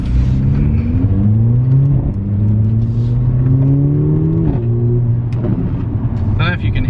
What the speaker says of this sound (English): the exhausts are literally just behind those rear seats, so it is very loud